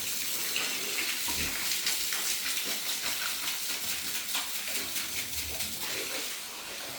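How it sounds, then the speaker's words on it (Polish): A cold stream of water runs steadily while grill grates are rinsed, a continuous broad hiss and splash at close range lasting throughout, with no talking. "Bo to jest zimny strumień wody."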